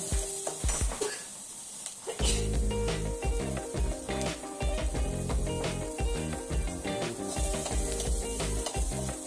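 Chopped onion sautéing with salt in a pan for a dry potato bhaji, a loud continuous sizzle close up with scraping and stirring clatter over it.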